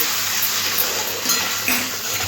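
Potato and green chili curry frying in a pan as water is sprinkled over it, giving a steady close sizzle with light stirring and utensil clinks throughout.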